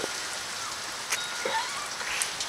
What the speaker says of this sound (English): So, can you see the rain?